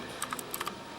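Keys clatter on a computer keyboard at a gaming center in Mexico City, several crisp clicks in quick uneven bursts, close and clear over a low room hum.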